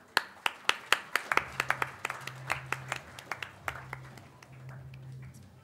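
Audience at a company employee award ceremony claps for a service award recipient: a sparse round of distinct, sharp handclaps, brisk at first, then thinning out and fading over a few seconds.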